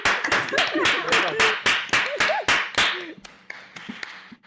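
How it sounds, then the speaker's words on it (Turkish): A small group claps for a team of nine in a steady burst of sharp hand claps, with laughter and voices mixed in before the clapping thins out and fades. "Bir alkış yok mu ekibe?"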